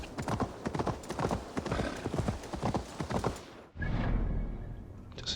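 Hooves gallop at a quick, even rhythm on a horse in the video game Assassin's Creed Valhalla, then cut off and give way to a duller rumble near the end.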